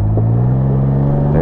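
A Can-Am Ryker Rally three-wheeled motorcycle engine fires up and settles into a loud, steady low rumbling idle up close, with a faint rise in pitch as it catches, heard alone without voices.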